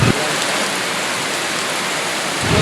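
Steady rain falls outdoors, a dense, even patter across a broad hiss that stays loud and unbroken throughout, with no voices over it.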